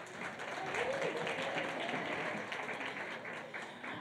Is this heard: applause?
yes